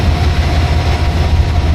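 Lake Shore Limited passenger train rolling steadily, a loud, continuous low rumble of wheels and car body with a faint sustained hum above, no voices.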